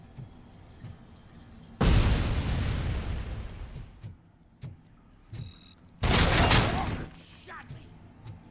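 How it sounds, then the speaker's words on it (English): Grenade blasts in the video game RoboCop Rogue City, two loud roaring explosions several seconds apart, each bursting suddenly and fading slowly, with scattered thuds and gunfire between them. "No, grenade!"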